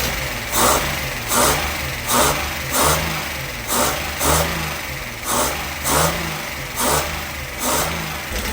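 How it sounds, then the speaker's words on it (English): An old Datsun 240Z barn-find engine, first started in 30 years, runs close by with a rough, rhythmic chug, pulsing roughly once a second over a constant mechanical hum. "As you guys can hear though, the engine's a little noisy"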